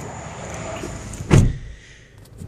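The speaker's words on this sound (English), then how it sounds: "Now, I'm going to actually shut the door." A 2014 Scion xB car door shut once with a solid, muffled thump, close and fairly loud, in an otherwise quiet setting with a faint fading rattle afterward.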